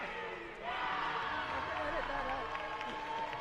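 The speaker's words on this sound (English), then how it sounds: "that's the Jamaica crowd still cheering" A Jamaica crowd at a USA versus Jamaica rugby match cheers and roars continuously in the background, a dense sustained noise heard behind commentary.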